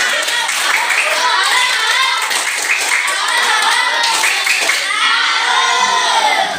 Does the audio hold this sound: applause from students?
yes